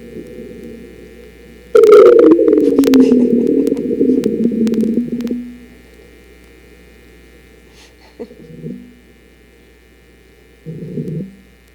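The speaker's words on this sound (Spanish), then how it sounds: "Y ahora el ruido del brazo robótico." A Mars probe's robotic arm makes a mechanical whirring groan with a falling pitch for a few seconds over steady hum, followed by two short motor buzzes after pauses.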